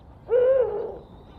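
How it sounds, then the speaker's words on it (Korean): One deep, low hoot from a male Eurasian eagle-owl, a single drawn-out call lasting about half a second and heard close and clear against a quiet night background. "암컷이 소프라노의 높은 소리를 낸다면 수컷은 이렇게 바리톤의 저음으로 웁니다."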